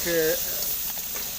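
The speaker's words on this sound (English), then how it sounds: "are frying village crab" Village crab frying in a pan for a crab curry gives a steady close sizzle and hiss, with a voice talking briefly over the start.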